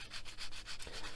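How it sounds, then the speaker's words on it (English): A rough sanding stick rubs over the plastic surface of a 1/35 scale AML-90 model kit, giving a steady run of close, rhythmic scratchy strokes with no talking. "I'll go over with my rough sanding stick just to get rid of any burrs"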